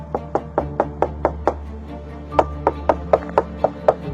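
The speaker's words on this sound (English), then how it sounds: "But after knocking on every door and window" Someone knocks on doors and windows of a house, a steady series of sharp, evenly spaced raps, about sixteen in all, with a brief pause midway before the knocking resumes.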